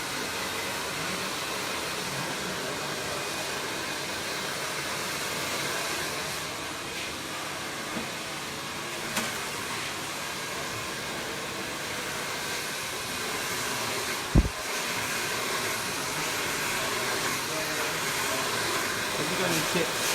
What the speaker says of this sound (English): I'm just going to blow dry it.